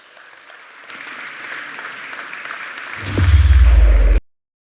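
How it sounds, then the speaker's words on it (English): A conference audience at a software talk breaks into applause, a rising wash of clapping that swells for a few seconds before a loud low thump ends it abruptly. "Applause starts now."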